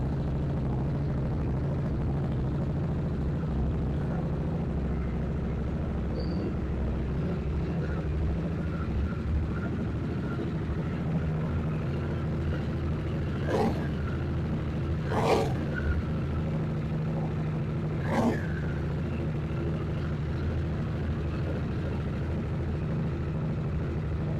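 A Harley-Davidson Nightster motorcycle engine runs in a steady, even rumble that holds at one level throughout, with a few brief sharp ticks about two-thirds of the way in.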